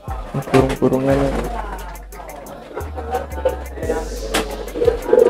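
Pigeons coo in low, soft, repeated calls among a flock kept for sale in Krasak village, Brebes, with people talking over and between the cooing.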